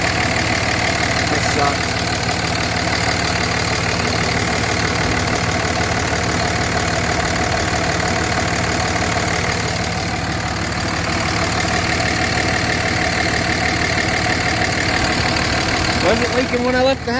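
A Cummins diesel truck engine with a leak at the number 6 injector runs steadily with a loud, even clattering drone throughout, while a voice speaks briefly over it.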